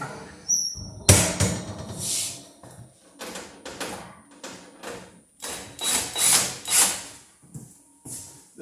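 Electric drill driving screws into a wood stove's chimney pipe, short bursts of whirring and ratcheting clicks in an irregular stop-start rhythm, close and fairly quiet.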